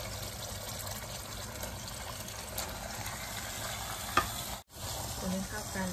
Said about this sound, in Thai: ตอนนี้กะทิก็แตกมันนะคะเตรียมใส่เนื้อไก่ลงไปเลยค่ะ